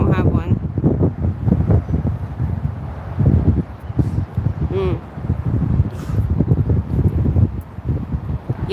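Wind gusts buffet the microphone outdoors in a shady spot, a steady rough rumble with swells, while a person talks over it throughout.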